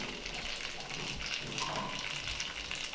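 Starchy pasta water scooped from a pot of cooking noodles while making Roman-style carbonara, a steady close splashing and gushing of liquid that runs without pause and stands alone.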